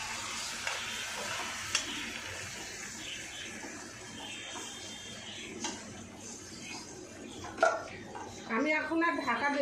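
Fish fries in a pan with a soft, continuous sizzle and occasional clinks of cookware, fairly quiet and close, before a person begins talking near the end.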